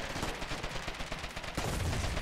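Video game gunfire in a war battle, continuous rattling bursts of shots at moderate distance, steady and dense throughout.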